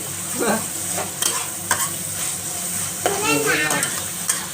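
Pork stir-fried in a large pan, with a steady sizzle of hot oil broken by repeated scraping and stirring strokes. A voice speaks briefly over the cooking.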